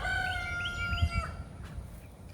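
A rooster crows in a backyard chicken yard alongside a garden, several drawn-out crowing calls overlapping near the start, with softer clucking and farmyard background noise following.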